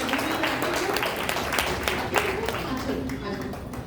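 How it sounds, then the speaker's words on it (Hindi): An audience applauds a child who has just recited a mantra at a Junior Arya Samaj annual function, a steady dense clapping lasting several seconds, with a voice speaking over it. "और एक बार और तालियां"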